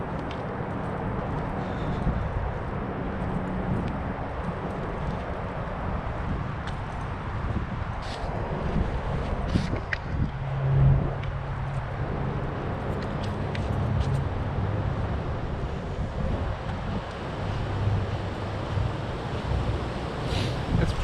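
Wind blows steadily outdoors on a cold day, a continuous rushing roar buffeting the microphone with gusty rumble and occasional faint crackles, loud and unbroken throughout.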